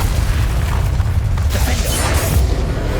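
Confringo blasting spell explosion in the video game Hogwarts Legacy, a loud continuous booming rumble with crackling bursts across the whole moment, no voices.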